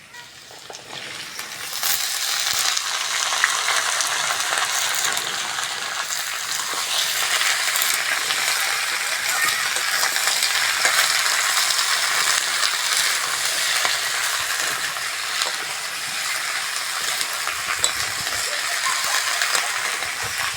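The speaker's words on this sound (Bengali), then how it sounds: "আলুর সঙ্গে পেঁয়াজ কালিটাও ভালো করে ভেজে নেব" Sliced new potatoes and onion frying in a pan for a dried Bombay duck (loitta shutki) bhuna, giving a steady, loud, continuous sizzle that fills the whole stretch with no talking.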